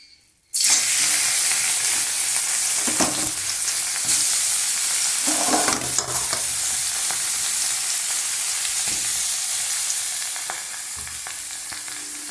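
Grated cauliflower with ginger paste hits a hot wok and fries with a loud, steady sizzle and hiss, with a few stirring scrapes, easing slightly toward the end.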